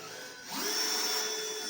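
A power drill drives a screw into the wooden table framework of a model railroad layout, its motor whirring up from quiet and holding a steady high whine nearby.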